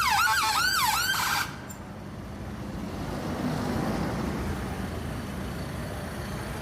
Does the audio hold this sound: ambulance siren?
yes